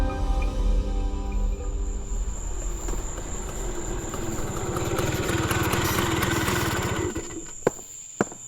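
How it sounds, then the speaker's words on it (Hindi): A scooter pulls up outside and stops, its engine running as a steady rumbling drone that rises and then settles, with a couple of sharp clicks at the end, used as a sound effect in a spoken horror story. "तभी बाहर एक स्कूटर आकर रुका"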